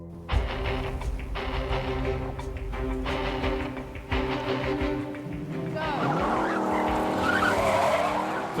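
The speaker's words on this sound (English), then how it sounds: "First one to have smoke off the rear tyres off the line." A racing go-kart launches off the start line with rear tyre wheelspin, a loud sustained engine drone with squealing, skidding tyres that rises into a harsher screech as it pulls away, close up, with no speech.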